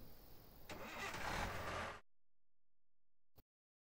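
A car's engine starts and revs up in the Thief Simulator video game, building for about two seconds before cutting off into silence, with a brief click afterward.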